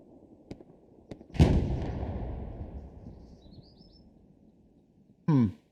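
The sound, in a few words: tank cannon firing in video game Hell Let Loose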